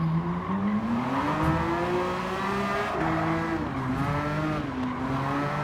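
Gran Turismo 7 race car lapping a track on PS5, a steady engine drone rising and falling through gear changes and revs, loud and continuous with faint tire noise, no talking.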